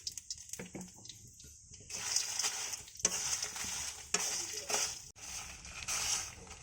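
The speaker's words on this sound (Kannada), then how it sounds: "ಈಗ ಇದಕ್ಕೆ ಸ್ವಲ್ಪ ಎಣ್ಣೆ ಹಾಕಿ ಹುರ್ಕೋತಾ ಇದ್ದೀನಿ." Sambar masala ingredients roasting in a little oil in a pan over a medium flame give off a steady, moderately loud sizzle and rustle, with scraping bursts rising and falling as they are stirred.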